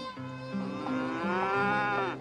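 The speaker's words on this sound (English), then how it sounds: "these black baldy cattle belong to Dick Chisholm" Black baldy cattle moo on a state highway, with one long, loud, close bellow that rises and falls over about two seconds.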